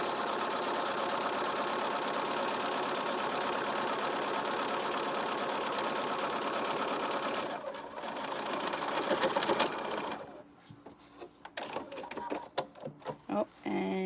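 A domestic sewing machine back stitching a 3/8 inch seam on a zipper pencil case runs in a steady mechanical whir for several seconds, then slows and stutters into short uneven bursts before stopping.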